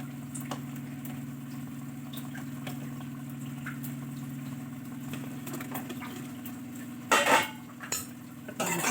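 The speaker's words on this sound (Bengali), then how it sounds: "নাড়াচাড়া করে নেব।" Paneer korma being stirred in a pan with a utensil, faint scraping and clinks over a steady low stove hum, then a louder burst of metal clatter near the end; no speech.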